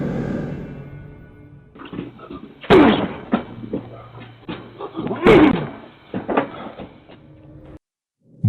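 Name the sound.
man repeatedly ramming his body into a house's front door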